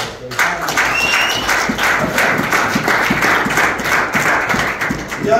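A worship congregation claps together, producing a steady, fairly loud run of rhythmic hand claps that continues for several seconds, with voices mixed in.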